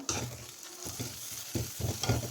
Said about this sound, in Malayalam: എല്ലാം ഒന്ന് ഇട്ട് കൊടുത്ത് ഒന്നുകൂടി ഒന്ന് വഴറ്റി കൊടുക്കാം